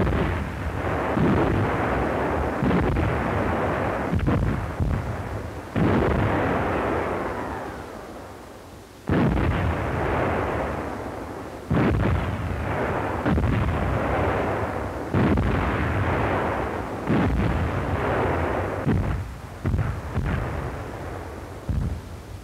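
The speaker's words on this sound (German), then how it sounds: "Artillerie legt Sperrfeuer. Sie wird von unseren Batterien zum Schweigen gebracht." Artillery barrage from 1941 German newsreel footage of the Afrika Korps at Halfaya Pass: loud, booming gun blasts repeat every couple of seconds, each decaying into a rolling rumble, with no voices.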